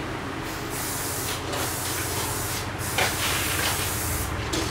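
A steady, close hiss of liquid being sprayed continuously, with a few brief pauses and a slightly louder burst near the middle.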